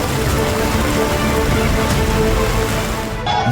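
Heavy monsoon rain pours down steadily in Surat, India, a dense continuous hiss and patter of drops on surfaces, loud and unbroken, easing abruptly for a moment near the end.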